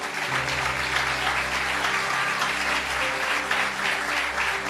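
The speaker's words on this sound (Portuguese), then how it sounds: "a gente vai dar um aplauso para vocês dobrado" A church congregation at a Sunday evening service in Lisbon applauds the mothers for Mother's Day, steady dense clapping filling the room for several seconds over a low sustained hum.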